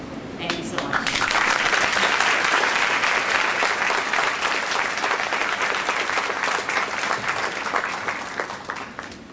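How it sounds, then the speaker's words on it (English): Audience applauds after a Law Day keynote address at John Jay, a sustained, loud burst of many hands that swells quickly and holds steady with light crowd voices mixed in. "I feel like we just applauded the speech."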